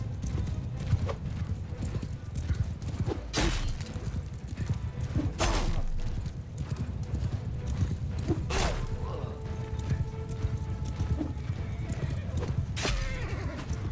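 Horse hooves clip-clopping at a run with repeated loud neighs and whinnies in the medieval battle game Mount & Blade II Bannerlord, over dense battle noise.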